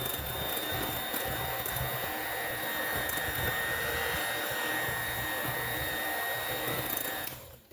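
An electric mixer beating white chocolate snickerdoodle blondie batter whirs with a steady, loud motor whine that runs unbroken for several seconds, then cuts off abruptly at the end.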